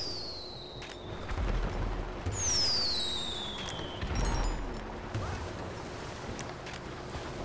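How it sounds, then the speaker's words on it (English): Firework rockets in the GTA video game, whistling upward in bright rising-and-falling streaks with crackling bursts and low thumps, heard over steady background game noise. "firework rockets"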